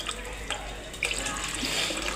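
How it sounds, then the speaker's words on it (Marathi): Water pours steadily into a container of soaked sago, a continuous close splashing and trickling with faint dripping accents. "आता एवढं पाणी टाकले"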